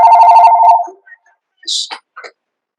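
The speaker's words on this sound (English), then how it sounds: "if you are hearing your phone ring" A phone ringtone rings loud and close for under a second, then stops, followed by a few short faint sounds.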